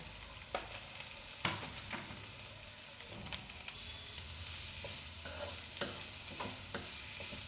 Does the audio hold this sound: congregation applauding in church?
no